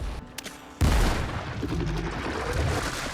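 Gunfire rings out in the Windrose video game as bulbs are shot during a boss fight, a sudden dense burst of loud rapid shots after a brief quieter moment, continuing steadily to the end.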